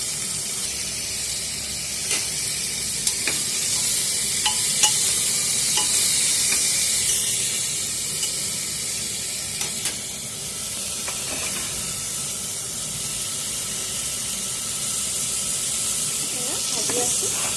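Spices sizzle and hiss steadily in a hot pan while a vegetable sabzi is cooked without garlic, with occasional stirring clicks and scrapes over a constant frying crackle, close and moderately loud.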